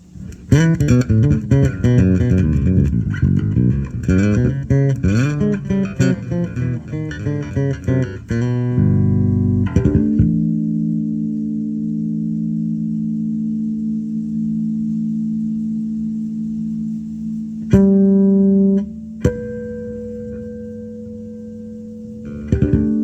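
Bass guitar on the rear pickup through an old-school Peavey Milestone amplifier: a loud run of plucked notes, then a long sustained low note that rings out, followed by a couple of further struck notes.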